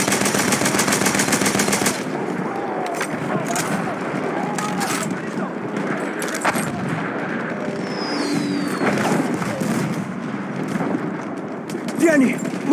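Rapid automatic gunfire from a portable anti-aircraft gun in a Monte Grappa battlefield game, a dense metallic stream of shots running continuously under in-game voice callouts and battle noise.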